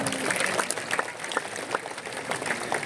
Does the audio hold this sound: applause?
yes